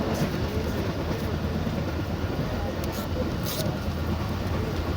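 A Pakistan Railways passenger train runs along the rails, a constant rumbling roll with low mechanical drone heard from inside the carriage, with faint voices in the background.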